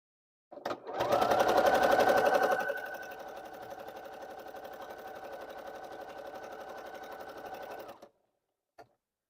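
Sewing machine with a walking foot stitching quilting fabric, a fast steady mechanical whir that starts loud for a couple of seconds, then settles into a slightly softer, even run before stopping, close and alone.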